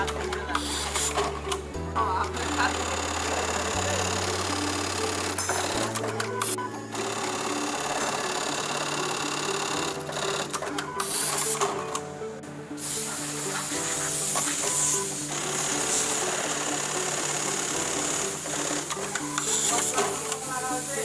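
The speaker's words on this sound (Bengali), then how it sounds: "এটি হলো আইলেট বাটন হোল মেশিন" An eyelet buttonhole sewing machine in a garment workshop runs in shifting cycles of whirring, buzzing and rapid stitching, with mechanical clatter between passes, close and loud throughout.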